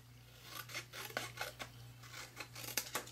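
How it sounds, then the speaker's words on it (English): Scissors cutting a cardstock circle in half: a quiet series of about a dozen short crisp snips in an uneven rhythm, close by over a low steady hum. "So first we're going to go ahead and cut the circle in half."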